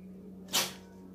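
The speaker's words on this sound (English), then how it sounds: "Oh, sorry. Bless you, Pancake." A pet cat lets out one quick, breathy sneeze, a single soft burst close by against a faint steady hum.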